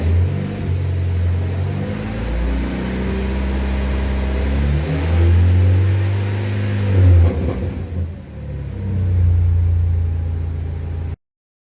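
A BMW 116i engine, under inspection for ignition coils and spark plugs, revs up and down in rising and falling swells close by, with a brief clatter before it settles back near idle and cuts off abruptly.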